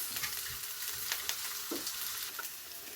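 Onions and peppers sauté in a pan for a Chinese-style sweet and sour chicken, giving a steady close sizzle with occasional stirring scrapes and clicks and no talk.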